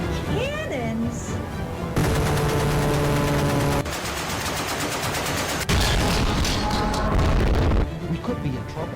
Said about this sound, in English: Receiving enemy fire.